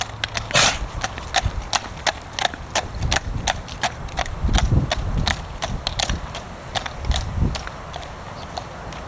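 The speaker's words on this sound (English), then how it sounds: "The horse lands more heavily on the sound left forelimb so that the lameness can be heard" Hoofbeats of a horse lame on its right forelimb, landing harder on the sound left fore, ring out as sharp, uneven clip-clops in a steady walking rhythm, close and clear with a faint scuffing underneath.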